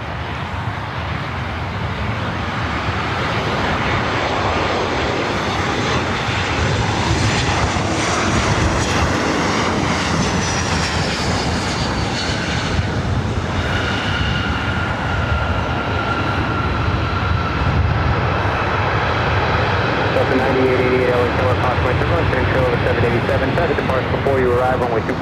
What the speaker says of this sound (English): Also have Alaska Airlines Flight 1013 heading up for north side takeoff heading to Seattle.